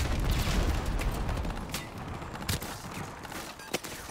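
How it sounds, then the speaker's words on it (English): Gunfire in Call of Duty: Modern Warfare Remastered, a dense rumbling fusillade with scattered sharp cracks, fairly quiet and continuous, tapering toward the end. "Why am I not shooting? I'm getting shot at."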